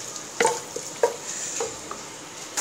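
Carrots and peas fry in a pan with a steady, moderate sizzle, punctuated by several soft knocks and scrapes of a spoon stirring, no voices.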